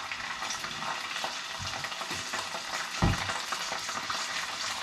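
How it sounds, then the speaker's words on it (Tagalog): Chicken wings fry in hot oil with a soft, constant sizzle and crackle, stirred occasionally, with one brief louder clunk partway through and no talking. "mainit yung ating mantika, kaya ilalagay na natin yung ating chicken wings"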